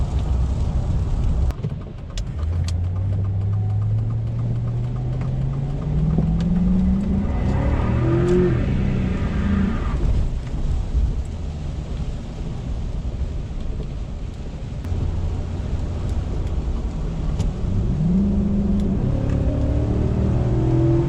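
A lowered AWD Cateye truck with an MSD 2-step launches and briefly breaks traction, a loud rising engine drone climbing in pitch through the gears, then a second surge and rev, with steady road and wind roar throughout.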